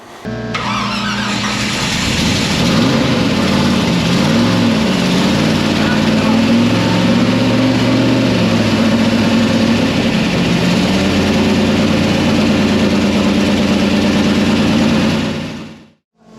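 A small-block Chevy V8 built for a 1967 Camaro, timing set at 30 degrees, fires up and runs loud and steady on a dyno, its deep rumble filling the space with rising and falling revs throughout.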